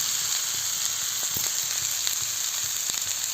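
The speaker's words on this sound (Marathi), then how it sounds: "आईने घेतलं वड्या तळायला आणि बघा तेल टाकले आणि फक्त तेलामध्येच फ्राय करून घेणार आहे" Coriander vadis frying in oil over a wood-fired chulha, a steady close sizzle throughout with a few faint clicks.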